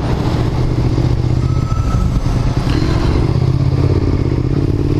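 A motorcycle engine runs steadily at a low, rumbling idle-like pace, close and continuous, with some rattling clatter throughout.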